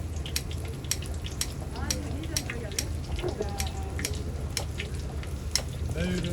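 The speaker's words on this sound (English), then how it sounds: "she heats it up by frying it in the oil" Food, including sundae (Korean blood sausage), sizzles and crackles steadily in hot oil at a street stall in Seoul, with sharp pops and spatters throughout, while people talk nearby.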